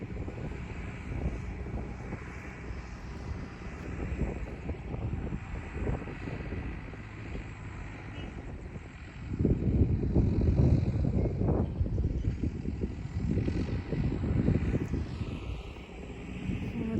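A crop-spraying aircraft's motor drones over a rice paddy in a Turkish village, a steady engine roar mixed with wind buffeting that swells louder as it passes close, then eases slightly.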